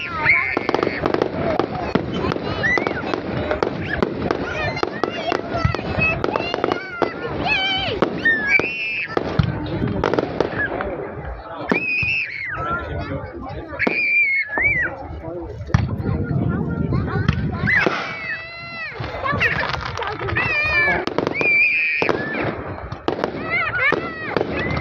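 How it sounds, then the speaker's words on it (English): A big night fireworks show in Mildura, with repeated booming bursts and crackling pops, some whistling rockets rising, close and loud throughout while excited voices talk and exclaim over the blasts. "It was big fireworks."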